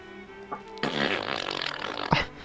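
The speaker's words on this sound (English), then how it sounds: "Again, with the flatulence." A wet, sputtering fart sound effect, a single drawn-out burst of about a second and a half ending in a short squeaky blip, loud and isolated with no talk over it.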